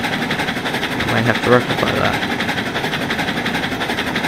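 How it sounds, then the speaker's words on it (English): A train rumbles by in the Railroads Online video game, a steady mechanical drone with a rhythmic clatter under a voice. "train cuts through there"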